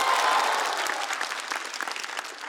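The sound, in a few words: audience applause on a stand-up comedy show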